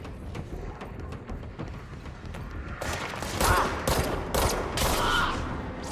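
Gunfire cracks at enemies in the video game Control, scattered muffled shots at first, then a louder run of rapid bursts near the end over a constant low rumble of background noise.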